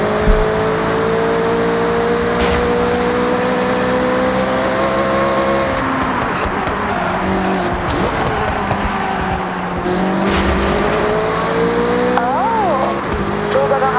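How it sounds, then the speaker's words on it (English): A Corvette C7 races in Forza Horizon 6, its engine droning loud and steady with rising and falling revs and occasional tire squeal, while someone talks over the game audio throughout. "For example, I'm using the Corvette C7 CR1."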